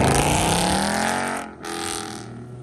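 Modified muscle cars, a Corvette Z06 and a Mustang, pull hard away from a car meet with loud engine roar and rising revs, a brief dip as one shifts, then more acceleration fading slightly.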